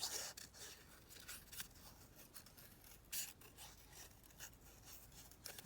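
Scissors snipping paper for a junk journal, a run of quiet close crisp cuts and rustles with short pauses, no voices.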